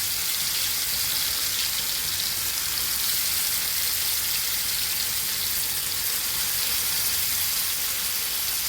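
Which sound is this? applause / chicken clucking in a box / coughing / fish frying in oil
fish frying in oil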